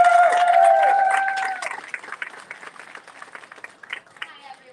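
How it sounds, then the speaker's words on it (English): A crowd at an outdoor Take Steps charity walk claps and cheers, the applause rising after a brief tonal sound and continuing as scattered, moderately distant clapping. "So a round of applause."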